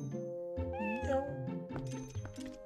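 A cat meows once in a rising, drawn-out cry over soft background music in the video game Zelda Twilight Princess, followed by faint game sounds.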